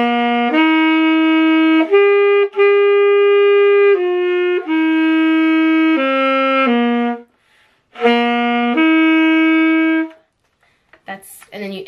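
Saxophone playing the slow melody of Amazing Grace, a run of clear sustained notes with short breaks between phrases, loud and close, ending in a brief rustle after the last note.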